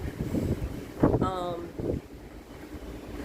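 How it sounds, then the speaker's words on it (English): Steady wind buffeting a microphone on a cruise ship deck, with low rumbling gusts and a brief voice or tonal sound breaking through midway. "it is so windy here"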